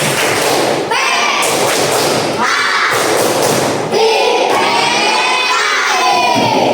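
A group of children chanting loudly in unison with rhythmic claps and thumps, a continuous energetic crowd of young voices close by.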